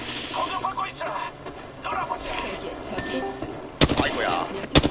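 Bursts of automatic gunfire from the Apex Legends video game, fairly quiet and mixed under steady talking, with a couple of sharper, louder volleys near the end.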